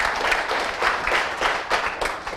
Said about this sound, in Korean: 박수 한번 부탁 좀 드리겠습니다.